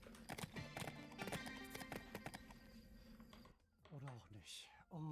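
Horse hooves clip-clop steadily in the Bibi & Tina horse-riding game, a brisk rhythmic trot over game music, with a whinny near the end and a player's voice speaking over the top.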